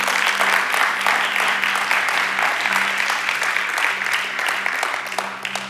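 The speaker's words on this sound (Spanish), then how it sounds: "Denle un fuerte aplauso a Jesús" A church congregation claps loudly and steadily for Jesus, a dense sustained round of applause over a low steady hum, easing off slightly near the end.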